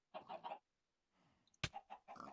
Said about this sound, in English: Chicken, not cow.